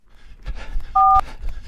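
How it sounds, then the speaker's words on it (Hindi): A single telephone keypad tone beeps briefly, a clean two-pitch dialing note amid quiet rustling background noise. "और जल्दी से अपने पापा को फोन किया"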